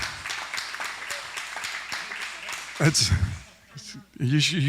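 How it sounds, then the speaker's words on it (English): Clapping from a church congregation, fairly close and even, fades after a couple of seconds, then someone speaks. "all of the applause is for her"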